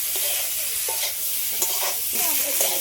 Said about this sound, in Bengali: সবগুলো আবারও একসাথে একটু ভেজে নেব